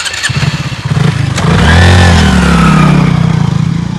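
A nearby motorcycle revs up loudly, its engine note climbing and swelling as it pulls away, then easing off slightly toward the end.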